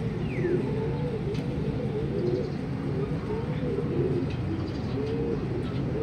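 Racing pigeons coo in soft, repeated rolling calls throughout, close and steady under an outdoor hum, with a brief chirp or two from other birds.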